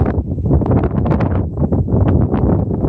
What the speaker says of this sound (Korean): 또 바람소리